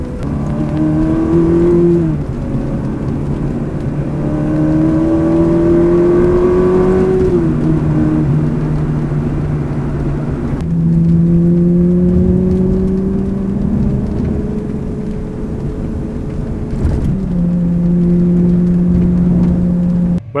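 A car is driven fast along an empty small country road near Sancerre, its engine loud and steady from inside the cabin as it climbs through the revs in long rising pulls, with brief gear changes between them.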